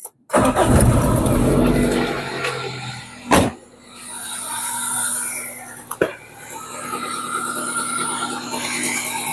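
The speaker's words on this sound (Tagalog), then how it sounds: "napaandar na natin yung makina" A Toyota Corolla engine cranks and fires up just after a new thermostat is installed, then settles into a steady idle at close range, with a brief clunk partway through.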